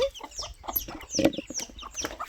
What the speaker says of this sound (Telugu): కోళ్ళు చూడండి ఇలా కాట్లాడుకుంటున్నాయో